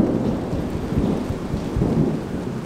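Thunder rumbles through steady rain during a storm, a low rolling boom over the constant patter of drops, with no voices.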